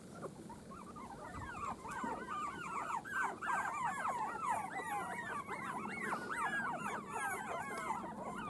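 A litter of four-week-old puppies whimpering and yipping, many high, overlapping whines in a continuous chorus at moderate distance, with no talking.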